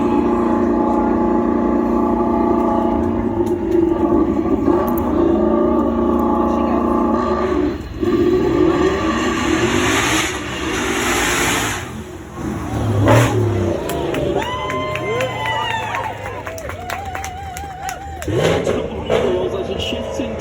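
A 900-horsepower twin-turbo V8 car roars loudly past with a jet-like whoosh, holding steady for about twenty seconds as a crowd cheers in the background and the engine note rises and shifts.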